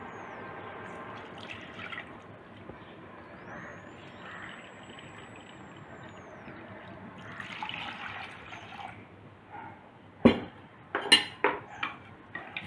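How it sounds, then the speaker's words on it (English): Water poured onto coconut milk powder for a Sri Lankan potato curry, a steady soft pouring wash followed by a few sharp clinks and taps of stirring against the pot near the end. "Let's add 500 milliliters of water, about 2 cups of water"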